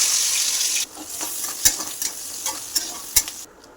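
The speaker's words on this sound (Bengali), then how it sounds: "ক্যাপসিকাম ভেজে নিতে হবে" Capsicum frying in oil in a pan, a loud sizzle that drops off suddenly and is then broken by repeated sharp stirring scrapes and clinks of a spatula, close up with no talk.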